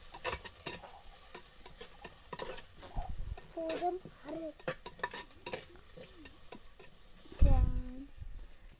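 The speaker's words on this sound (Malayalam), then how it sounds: "നമ്മള് ഉള്ളി ഇട്ട് കൊടുത്തോട്ടാ." Small and large onions sizzle in a hot pan while a spoon stirs and scrapes through them, with a continuous frying hiss broken by clinks and a brief voice near the end.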